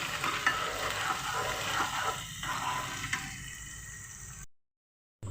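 Chopped onion sautéing in a pan until brown, a steady broad sizzle with occasional stirring scrapes that fades out near the end.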